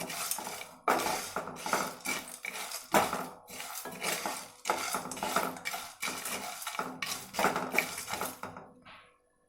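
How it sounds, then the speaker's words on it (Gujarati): Tea masala spices are dry-roasted in a pan on low flame, stirred with a utensil that scrapes and clinks against the metal in quick, repeated bursts, close and fairly loud. "હવે આપણે આ બધું મિક્સ કરી એને ડ્રાય રોસ્ટ કરી લઈશું"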